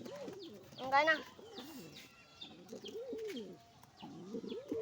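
Pigeons coo at close range while being fed, their soft repeated calls running throughout beneath a person talking.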